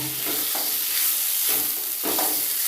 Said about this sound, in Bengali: আমি এবার সব এগুলো খুব ভালো করে এর মধ্যে মিশিয়ে নেব